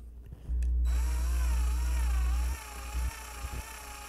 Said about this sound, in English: I drill this with the 1/16 first, just to create a guide